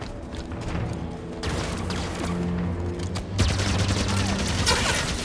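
Heavy rolling gunfire in a Halo game, dense overlapping shots that swell louder partway through, continuous over an ambient game background.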